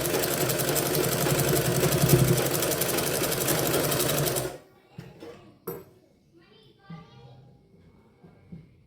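A sewing machine stitching a blouse runs in a fast, steady whir for several seconds, then stops abruptly, leaving quiet clicks and fabric handling.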